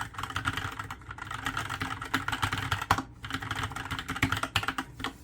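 Steady, fast clacking of keys being typed on a Kono 67 mechanical keyboard, close up, with irregular rhythm and no voices.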